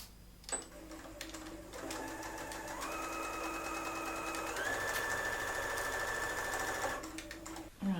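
A sewing machine runs one long continuous stitch along the side seam of a halterneck dress, a fairly faint, close, steady motor whir that rises slightly in pitch partway through, with no voices.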